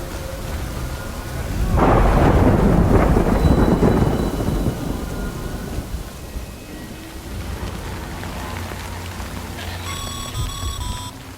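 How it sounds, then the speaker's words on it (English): A heavy thunder rumble rolls in loud and close over steady rain in Death Stranding, peaking for a couple of seconds before fading to a continuous downpour with faint high tones near the end. "Good thing it was raining."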